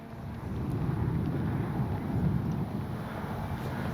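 Steady low rumble of strong wind buffeting the microphone during an RC aerobatic plane flight, continuous and fairly loud with no voices.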